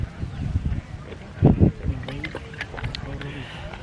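Strong mountain wind on Mount Andong buffets the microphone in rough, gusty rumbles with a couple of heavier blasts, while people talk nearby over it.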